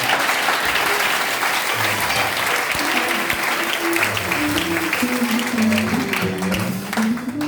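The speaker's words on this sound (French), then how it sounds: "il faut encore applaudir pour eux" A crowd gives sustained applause, thick and loud throughout, with a voice or tonal murmur running faintly underneath near the end.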